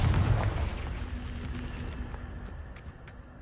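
A Confringo fire spell explodes in Hogwarts Legacy. A deep, rumbling boom rolls out and fades slowly over a few seconds, with faint crackles trailing behind.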